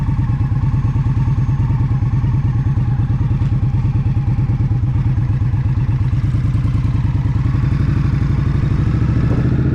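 A motorcycle engine pulls steadily in second gear on a warm night near an interstate, its dense, rapid firing pulses loud and continuous throughout with no talk over it.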